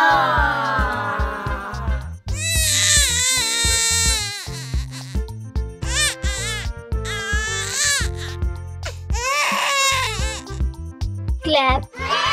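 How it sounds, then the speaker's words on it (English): A young child cries loudly in repeated wailing bursts with sobbing breaks, close and prominent, with a sung musical backing underneath. "cry."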